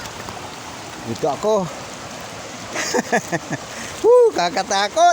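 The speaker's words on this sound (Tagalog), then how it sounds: "Malakas ang agos dito" Broad steady rush of the strong, high-running current of the San Mateo river, a continuous close wash of water at a river crossing where a small boat ferries people across, heard under frequent talking voices.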